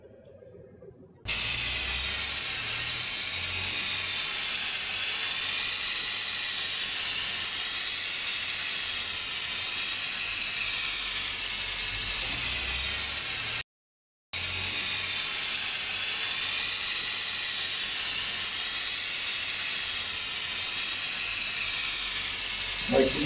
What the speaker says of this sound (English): the decontaminant spray, which is a paint-like substance that we will spray onto the contaminated item